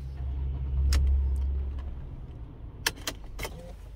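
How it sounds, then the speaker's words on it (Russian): A Mercedes W212 starts after its ignition lock was replaced: a low engine rumble swells and settles, followed by a few sharp clicks and knocks, like keys and switches, close by with no talking. "Теперь любым ключом машина заводится."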